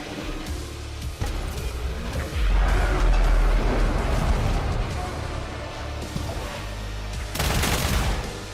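Rapid automatic fire from a Crusader 12 gauge gun in the SULFUR video game, a loud continuous barrage of dense shots with heavy low booms, briefly easing then surging again near the end.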